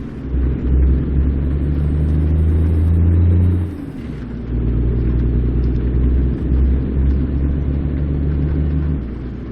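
A vehicle engine rumbles steadily, loud and low, dipping briefly midway before revving back up to a sustained drone.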